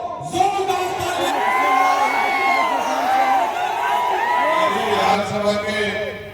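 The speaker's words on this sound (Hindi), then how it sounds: "जोरदार ताली" Political rally crowd cheering and whooping for a road show, a dense wash of shouts and applause from many people, loud and sustained, with voices calling out over it.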